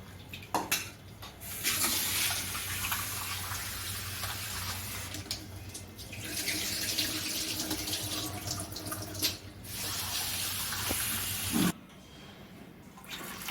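Soaked lentils are rinsed under running tap water in a kitchen sink, the splashing stream rising and falling in several bursts with brief pauses and a sharp clatter near the end.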